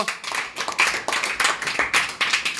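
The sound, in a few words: clapping to cheer on the player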